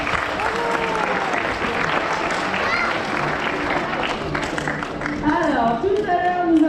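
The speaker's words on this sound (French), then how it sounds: "alors applaudissements" Crowd applause at an outdoor sea lion show, steady dense clapping from a large audience throughout, with animal calls or voices rising over it near the end.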